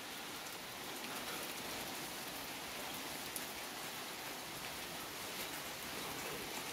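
Rain falls steadily over a tea garden, an even, dense hiss of drops that is faint and continuous with no voices.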